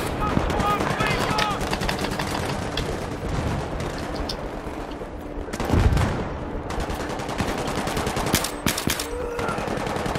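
Gunfire from a weapon in the video game Battlefield 3: rapid automatic bursts and dense crackling shots run continuously, close and loud, with explosions in the mix and a voice talking over the battle.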